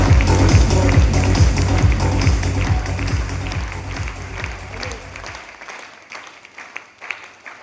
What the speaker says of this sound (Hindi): एक जोरदार तालियां इनके लिए